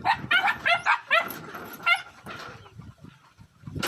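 Pet dogs bark in a rapid series of sharp yips and barks, close and loud, with whimpering between bursts and another bark at the end, in a rural yard with chickens nearby.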